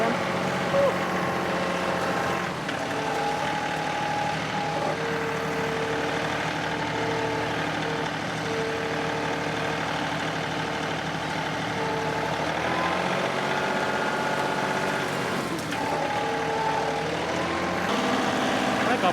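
A tractor's diesel engine idles steadily and loudly up close, a constant low rumble throughout with slight shifts in tone, while someone talks over it.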